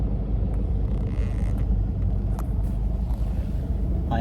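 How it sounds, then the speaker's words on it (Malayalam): Cars sit in a traffic jam, giving a low, steady rumble of idling engines from inside a vehicle, with faint distant sounds and no speech. "നമ്മൾ നല്ല ട്രാഫിക് ബ്ലോക്കിലാണ് ഗൈസ് കേട്ടോ"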